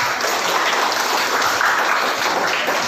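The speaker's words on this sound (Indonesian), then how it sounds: "Ya, tepuk tangan untuk kelompok 1" A classroom of students claps for a presenting group, a loud, dense and continuous burst of many hands clapping close by, sustained evenly for a few seconds with no voices over it.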